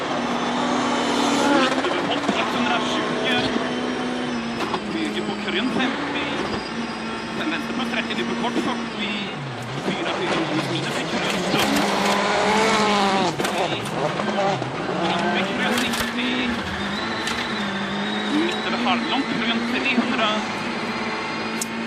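A WRC rally car drives a timed special stage of just over a kilometre on a rough, damaged track at Rally Sweden, its engine note rising and falling through gear changes and staying continuous and prominent under a commentator's voice.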